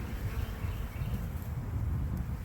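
A swarm of honey bees hums in a front yard, a soft continuous drone at close to middle distance with a few faint rustles and no talk.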